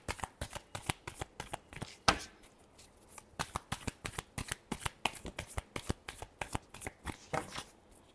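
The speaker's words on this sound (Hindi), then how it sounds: "Last shuffle." Tarot cards are shuffled by hand in a rapid, crisp series of riffling snaps and slaps, close and clear with no talking, keeping a fairly even rhythm throughout.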